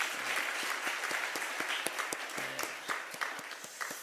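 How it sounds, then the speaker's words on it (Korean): A Korean church congregation at Sunday worship applauds its men's mission choir, a moderately sized crowd clapping steadily, with sharp individual claps standing out from the softer mass. "우리 삼남선교회 위해서 우리 한번 다시 격려의 박수를 보내겠습니다."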